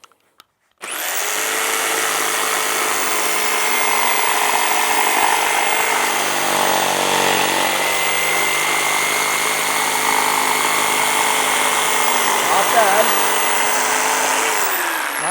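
A jigsaw makes scroll cuts in one long, steady, loud buzzing run after a brief start-up, its pitch wavering slightly as the blade turns through curves.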